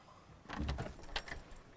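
Metal house keys, the old-fashioned kind supplied with a smart lock, jangle together in a short, quiet, close-up burst of bright clinks lasting under two seconds.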